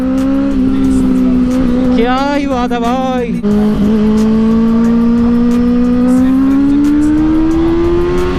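A Benelli 600i motorcycle accelerating hard in a drag race, its engine a loud close whine that climbs steadily in pitch, briefly dipping and rising through a gear change while the rider exclaims excitedly over it.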